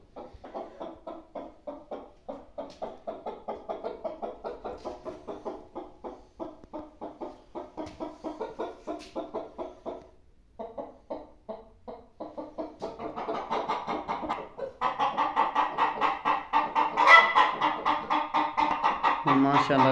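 Hens cluck in a village coop, a close run of rhythmic clucks that pauses briefly, then grows louder and denser with several birds calling together, while people talk over them.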